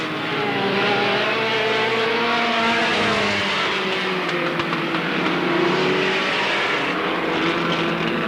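Race cars at Alwalton Raceway roar past in a dense, loud engine wash with rising and falling pitch as several cars pass close by in turn.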